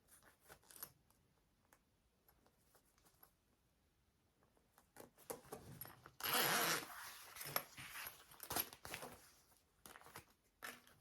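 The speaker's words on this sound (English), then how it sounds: "I'm gonna put on my zipper pulls" Zipper pulls being fitted to a sewn sling bag: quiet fabric rustling and small metallic clicks, rising to a burst of louder handling and crinkling midway.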